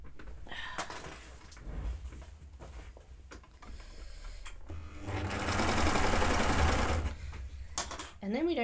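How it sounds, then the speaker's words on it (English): Sewing machine stitching the crotch and side seams of children's overalls, with scattered handling noises and a sustained whirring run of about two seconds in the middle, close and fairly loud. "So I'm going to sew from here all the way down to here on both sides."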